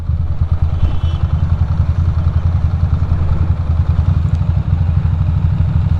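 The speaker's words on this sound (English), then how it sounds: "the wind is gonna blow me the fuck over" Riding a Ducati motorcycle in high winds through holiday traffic from Brooklyn to Manhattan, a loud, constant low roar of wind buffeting and engine rumble that stays steady throughout.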